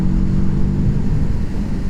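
Moto Morini 6 1/2 motorcycle engine pulling hard under acceleration, a loud, steady low droning growl held close throughout with no voices over it.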